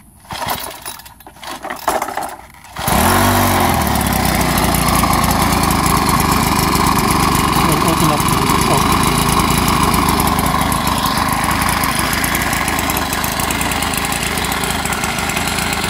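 A propane-converted Troy Bilt 515 edger engine catches after a few rough pulls, then settles into a steady, loud, slow idle that runs unbroken to the end.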